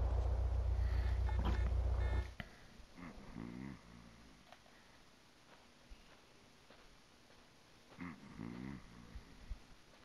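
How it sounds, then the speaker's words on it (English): Loud snoring from a sleeping man in Grand Theft Auto San Andreas, two rasping, growling snore pulls several seconds apart after a brief loud burst at the start, amid quiet game ambience. "the guy snores loud"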